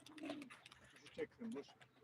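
Soft, low pigeon coos repeat a few times close by at a live pigeon auction, faint and muffled, with a little background chatter.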